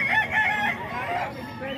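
Close, loud crowing from a gamefowl rooster: one strained crow that rises and then trails off, with faint background noise underneath.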